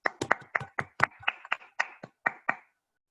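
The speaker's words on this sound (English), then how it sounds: "another evaluator, Toastmaster Ali Hasnan, with a big round of applause." About a dozen sharp hand claps at a Toastmasters meeting, irregular and fairly close, sounding like a small group clapping briefly before it stops.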